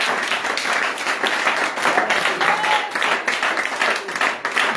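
A church congregation applauding and cheering, dense sustained clapping and crowd noise filling the whole space at a steady, fairly loud level.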